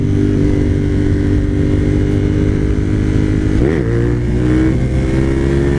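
A Suzuki TL1000R motorcycle with 150,000 miles, ridden with wheelies, holds a loud, steady engine drone close by under wind, with a brief rev swell partway through and no talking.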